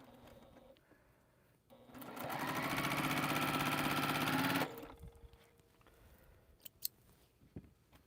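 A sewing machine stitches quilt pieces in one steady loud whir lasting a few seconds, starting and stopping abruptly amid quiet room sounds and small handling clicks.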